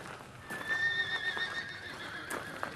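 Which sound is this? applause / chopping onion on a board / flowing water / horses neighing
horses neighing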